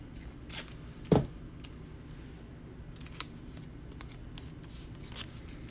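Masking tape is pulled and torn into strips, heard as a few short, quiet ripping tears spaced apart in a calm room.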